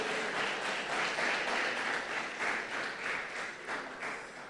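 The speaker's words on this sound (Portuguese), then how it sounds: "Você pode dar uma salva de palmas ao nosso Deus?" A church congregation applauds for a few seconds, many hands clapping in a soft, steady wash heard from a distance and gently rising and falling.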